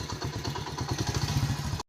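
A motorcycle engine putters in a Punjab village in Pakistan, a steady low rhythmic chugging at moderate volume for under two seconds before cutting off abruptly.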